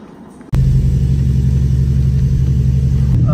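Car engine turning over and settling into a loud, steady low rumble that runs on without a break after a sudden start, close by in a parking lot at the outset of a road trip from Mulhouse.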